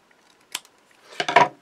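Scissors snip through craft card, one short isolated cut followed by a quick cluster of two or three louder crisp snips close up, with no talking.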